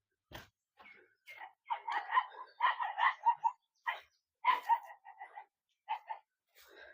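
Three dogs bark and yelp while playing and fighting by a roadside near Sathanur dam. The bursts are short, scattered and fairly faint, with quiet gaps between them.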